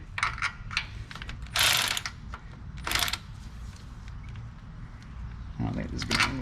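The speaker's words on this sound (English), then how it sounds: "now we are free to remove the bottom bolt" A ratchet works on starter bolts under a Ford F150, with a few bursts of clicking and metallic rattles spread over steady low background noise, and some loud sharp scrapes.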